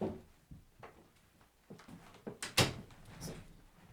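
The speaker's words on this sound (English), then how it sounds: "forgot to close my office door." An office door swinging shut, heard as a scatter of soft knocks and rattles that builds to one sharp, close bang, followed by a lighter knock.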